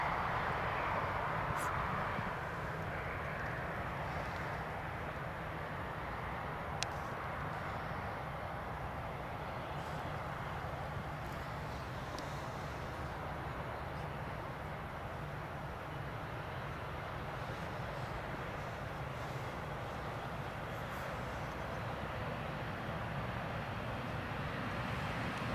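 An Emirates airliner at Newcastle Airport gives a steady, broad engine roar that holds at an even, moderate loudness throughout, no talk over it.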